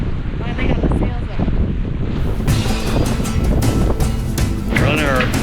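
Wind buffeting the microphone on a sailboat underway in the Sea of Cortez in about 12 knots of breeze, steady loud rushing with water wash, and a voice talking over it.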